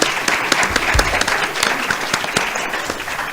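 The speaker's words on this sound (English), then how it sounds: "So let's just give them a round of applause" An audience claps at the close of a panel discussion at an arts academy, a dense, loud round of many hands that sustains evenly throughout with no speech over it.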